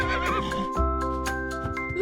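Close, loud horse neigh with a wavering whinny, then a few short breathy snorts, set against a steady musical accompaniment in a children's farm-animal song.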